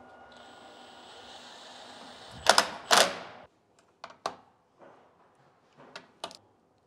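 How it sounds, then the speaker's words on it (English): A torque wrench tightens bolts on a car's transmission, producing a handful of sharp mechanical clicks and ratcheting snaps in short irregular bursts, close by and fairly loud against a quiet background. "we need to get all them torqued."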